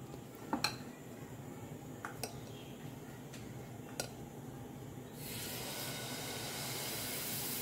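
Water splashed onto a very hot dosa pan, a few clinks of utensils on metal followed by a sudden broad sizzling hiss that continues steadily to the end, faint and fairly close.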